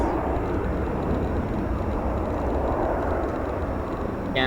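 An airliner arriving at Chicago O'Hare gives a steady, broad jet roar at moderate distance with no talk over it.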